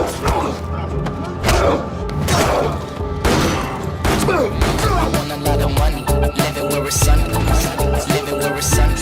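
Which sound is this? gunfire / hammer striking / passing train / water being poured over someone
gunfire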